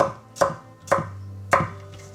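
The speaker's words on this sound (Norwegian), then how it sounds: "Så skjærer jeg de bare i tynne strimmer der." A knife slices chicken into thin strips on a cutting board, three distinct, evenly spaced chops with a soft hum between them and no speech.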